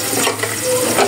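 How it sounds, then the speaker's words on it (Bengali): Chopped onion hitting hot oil on a stovetop, a steady close sizzle with faint stirring scrapes, no voices. "চুলায় আগে থেকে কিছুটা তেল বসিয়ে দিয়েছি। এখন দিয়ে দিব পেঁয়াজ কুচি।"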